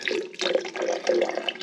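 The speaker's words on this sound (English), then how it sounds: "A little bit of cold water on the top. Knock those grounds down." Cold water is poured onto coffee grounds, producing a continuous splashing trickle that sits close and fairly loud for just over a second, with no voices.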